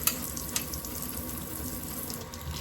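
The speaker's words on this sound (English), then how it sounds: "Then wash off with soap and water." Steady running tap water pours into a sink while an estate-sale item is rinsed after being scrubbed with Bar Keeper's Friend, a continuous close splashing hiss with a few small clunks near the start.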